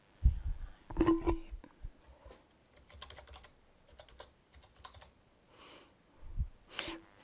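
Scattered bursts of keys being pressed on a computer keyboard, quiet and close, several quick clusters of clicks separated by pauses, with no talk.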